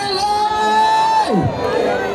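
A crowd at a Kenyan political rally cheers, whoops and shouts in a continuous swell of voices, with one high wavering yell rising and falling above the din.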